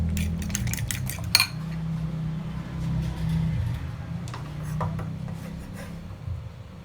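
Utensils scrape and clink against a bowl while sliced ham is mixed into beaten egg for an omelette, a steady soft rubbing with a few sharp metallic taps near the start.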